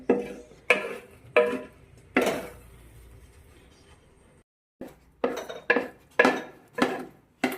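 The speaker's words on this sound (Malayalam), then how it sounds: "എല്ലാ വശത്തിനും ഇളക്കി ഇളക്കി കൊടുക്കുക" A utensil scrapes and knocks against a pan as jackfruit varattiyathu is stirred, a series of distinct loud scraping strokes in uneven rhythm with a short pause midway, close and without talk.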